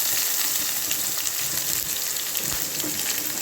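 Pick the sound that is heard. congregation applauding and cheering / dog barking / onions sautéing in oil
onions sautéing in oil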